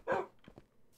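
Dogs from the SevTech modpack in Minecraft give one loud bark, then a couple of softer, shorter barks, all close by.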